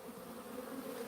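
Bees buzzing around a swarm ball in weeds, a dense continuous faint hum with no voices.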